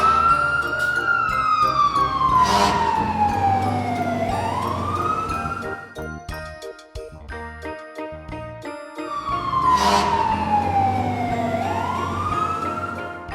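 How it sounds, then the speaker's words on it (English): A fire engine siren wails in long rising and falling sweeps, loud and close, repeating twice with a brief broken patch in between. "Fire engine."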